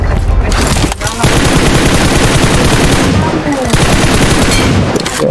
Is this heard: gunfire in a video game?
yes